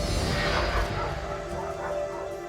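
Several puppies at an animal shelter, heard as a dense, loud chorus of overlapping barks, yips and whimpers that persists without a break.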